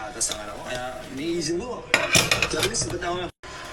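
Dishes, pots and cutlery are being washed close by, with irregular clinks and clatters of metal and crockery and a voice speaking briefly.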